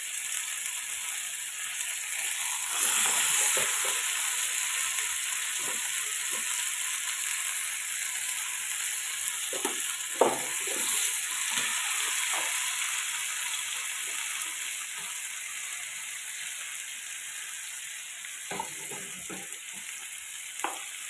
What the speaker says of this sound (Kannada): ಅದಕ್ಕೆ ಒಂದೊಂದೇ ಮೀನು ಹಾಕುವ. ಎಣ್ಣೆ ಬಿಸಿಯಾಗದೆ ಹಾಕ್ತಾರೆ ಗೈಸ್.